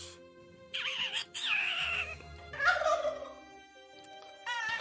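Turkeys gobbling in the video game Monster Harvest, several rapid warbling gobbles in bursts with short pauses, loud and close over quiet game background music.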